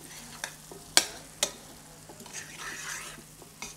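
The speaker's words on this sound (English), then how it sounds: "Just enough so that you can stir and swirl the butternut without it catching at the bottom of the pan." Butternut squash stirred in a little oil in a pan, giving a quiet steady sizzle broken by a few sharp scraping clicks of the spoon, close and faint with no voices.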